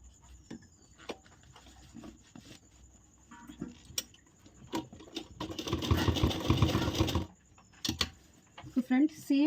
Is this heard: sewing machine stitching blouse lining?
yes